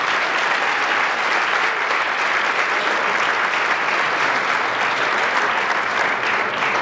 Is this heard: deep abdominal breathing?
no